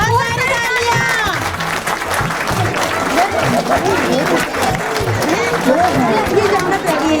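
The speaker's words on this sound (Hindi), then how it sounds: "बहुत सारी तालियां" Applause from a crowd at a family gala as a juice competition winner takes the stage, dense steady clapping mixed with loud chatter and voices throughout.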